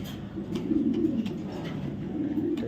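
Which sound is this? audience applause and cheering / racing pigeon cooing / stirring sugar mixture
racing pigeon cooing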